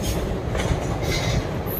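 The Tirupathi Express crosses the Godavari rail bridge at Rajahmundry with a loud, dense rumble and rattle of wheels on the span, ending in a brief high-pitched wheel squeal.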